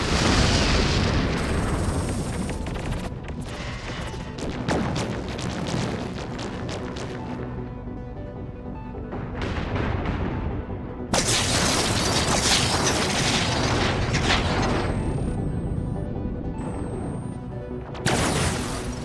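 Space battle in Endless Space 2, with energy weapons firing and ships exploding: booming blasts, rumbling bursts and mechanical clatter rising and falling in waves, loud and close with brief quieter lulls.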